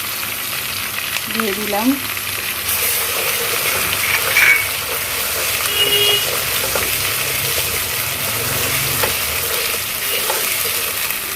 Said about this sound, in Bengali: আদা বাটা রসুন বাটাকে একটু ভেজে নেব